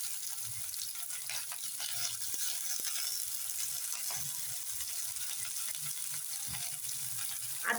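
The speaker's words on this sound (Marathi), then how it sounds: "लगेच फक्त भाज्या घालून फ्राय करून घ्यायच्या" Mixed vegetables frying for sambar in a pan tempered with mustard seeds and cumin, a steady close sizzle holding throughout with faint stirring beneath.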